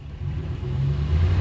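A RAM 1500 Hemi pickup in two-wheel drive strains against a load of heavy logs, its engine holding a loud, steady low rumble that rises slightly as it revs, close by and without talk.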